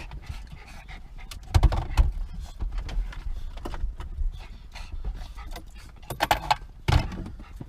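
Dogs breathing in quick rhythmic panting just before a walk to the park, close by, with keys or leash tags jangling and a few scuffs and thumps of movement.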